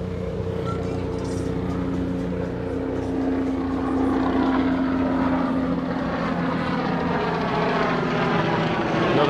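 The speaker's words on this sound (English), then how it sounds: "Another helicopter passing through." A helicopter passes overhead in New York City: a steady, loud, sustained mechanical drone with a throbbing hum that grows slightly stronger, no voices.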